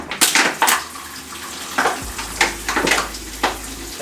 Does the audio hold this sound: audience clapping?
no